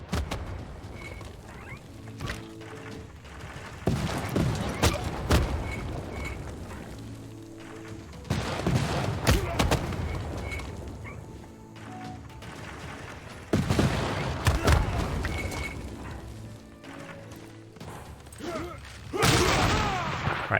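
Units firing at city walls in the strategy game Civilization VI, with repeated bursts of gunfire-like volleys and mechanical clatter in several loud waves, no speech.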